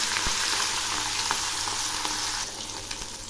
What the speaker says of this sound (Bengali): এবার আমি মাছগুলো ছেড়ে দিচ্ছি।